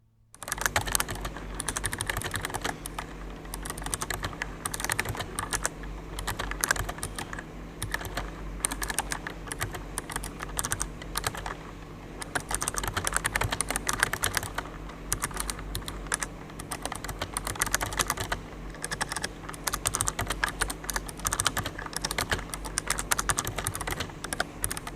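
Steady, rapid typing on a soft, muted Razer Ornata Chroma membrane gaming keyboard, with continuous key presses throughout and no talking.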